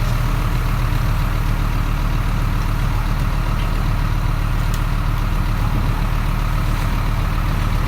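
A heavy crusher drones loudly and continuously as a little Citroen Berlingo van seized from fly tippers goes in, a deep steady engine rumble with a few faint knocks and no talk.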